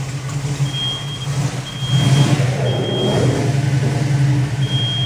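A 1972 Dodge Dart engine idles steadily with a low, rumbling hum as the car is moved out of a garage, joined by a repeating high beep, loud and close with no talk.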